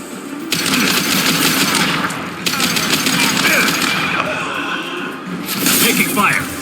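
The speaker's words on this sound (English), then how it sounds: "Firing a high-impact shot!" Rapid bursts of high-impact gunfire from the Mass Effect 2 game fill the scene in loud sustained volleys, broken by brief pauses, with combat voices and effects mixed in.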